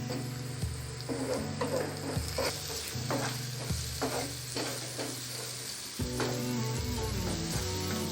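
Chicken pieces tossed with chilli powder and homemade masala powder, repeated soft scraping and slapping strokes of mixing with a low sizzle beneath, close and steady, no talking.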